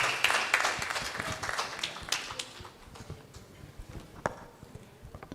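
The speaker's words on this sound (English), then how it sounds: "Let us have a big round of applause for all the participants," Applause at an event, a scattered patter of claps that swells and thins unevenly, fairly faint and heard from a distance, with no voices over it.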